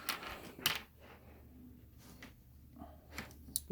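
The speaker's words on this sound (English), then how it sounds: "Got my tape measure here." A metal tape measure is pulled out and handled, giving faint, close ticking and rattling clicks with a few sharper snaps in a quiet room.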